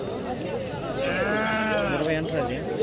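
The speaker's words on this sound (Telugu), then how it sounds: "ఫ్రెండ్స్ ఇది చోల్ మేక" A goat bleats at the Punganuru sheep market, a loud wavering cry near the middle over steady crowd noise and nearby talk.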